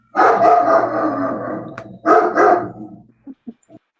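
Unhappy puppies bark and yip in two loud, close bursts, followed by three short, fainter yelps trailing off.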